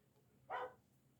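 A single short bark or yelp from a dog wanting to go outside, faint and somewhat distant in an otherwise quiet room, heard alone without speech.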